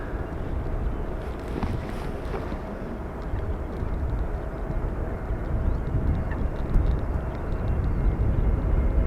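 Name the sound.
airplane arriving at Amsterdam Schiphol runway 18R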